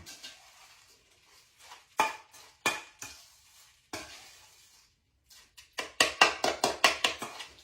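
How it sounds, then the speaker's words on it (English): A spoon works butter, a sleeve of crushed Ritz crackers and a cup of cheese together in a bowl: sparse scrapes and taps that turn into a fast run of sharp, rhythmic clinks against the dish toward the end, close and fairly faint. "That's a stick of butter and 1 sleeve of your Ritz crackers. And a cup of cheese. I'm going to mix that together now."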